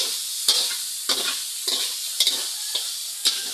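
Chicken sizzles loudly in a pan while a utensil scrapes and stirs it in regular strokes, about one every half second.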